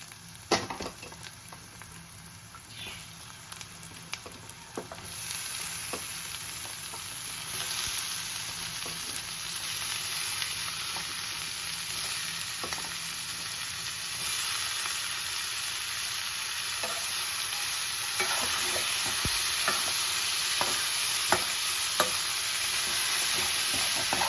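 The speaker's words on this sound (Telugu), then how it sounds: "ఇప్పుడు తరిగి పెట్టుకున్న దోసకాయ ముక్కలు వేసుకుందాం." Chopped dosakaya cucumber pieces frying in a pan, with a continuous loud sizzle and repeated scraping of a spatula as they are stirred, going on throughout with no voices.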